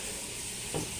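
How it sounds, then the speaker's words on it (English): Soft, continuous sizzling of food frying in a pan, faint and steady with a brief louder crackle near the end. "If you hear some sizzling in the background, that is me making lunch while I'm doing this."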